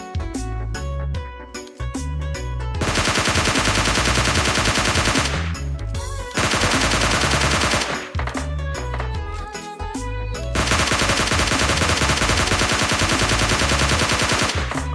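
Rapid bursts of gunfire in PUBG Mobile Lite, a battle royale shooter, come in several sustained automatic volleys separated by brief pauses, loud and close over a pulsing game music bed.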